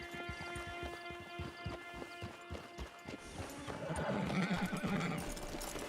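Horse hooves clop in a steady rhythm in Red Dead Redemption 2 Online, joined by a loud horse neigh and whinny near the end, with game ambience and music underneath.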